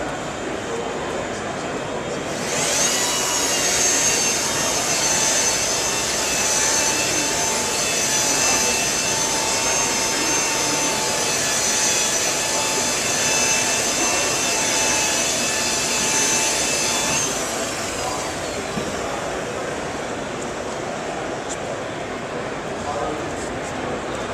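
A machine polisher buffs car paint with 3M compound at a trade show booth, a steady high-pitched motor whine that runs for about fifteen seconds before winding down, with a voice talking over it.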